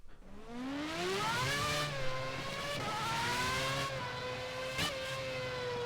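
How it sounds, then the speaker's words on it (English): An LMP1 race car engine in the Project CARS video game, one loud high-pitched whine rising through the gears with quick shift dips and a sharp blip near the end, with no talk over it. "Man, this is what proper Formula 1 cars used to sound like."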